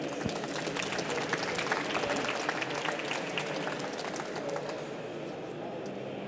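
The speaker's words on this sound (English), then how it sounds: "So please welcome them with a big round of applause and enjoy the show." Dense, steady audience applause welcoming presenters at a steampunk retrofuturistic modding show, a continuous wash of many hands clapping at an even level throughout.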